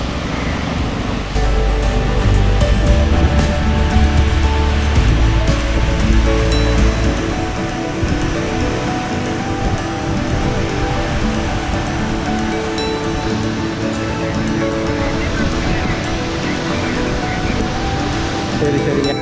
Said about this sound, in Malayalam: വെള്ളം താഴേക്ക് വീഴുന്ന ഭാഗത്ത് നല്ല നീല കളറിലാണ് വെള്ളം ആ വെള്ളം ഇങ്ങനെ തിരമാലകൾ പോലെ കടലിലെ തിരമാലകൾ പോലെ ഇങ്ങനെ തിര പോലെ ഇങ്ങനെ അടിച്ചുകൊണ്ടിരിക്കുകയാണ്